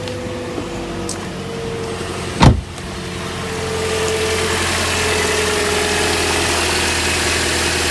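A 2010 Toyota Corolla S starts after a spark plug change: a brief loud cranking catch, then a steady, even idle humming close by with no talk.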